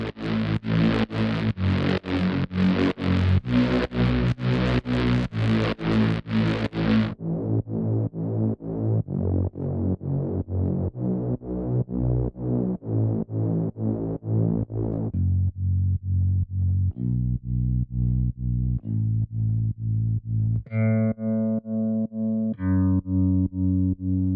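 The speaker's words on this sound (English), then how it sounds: "Now I will add the mid-bass layers." Gritty, distorted progressive house synth mid-bass layers play a repeating pattern, the tone changing from bright and buzzy to darker, then a higher plucky layer enters near the end.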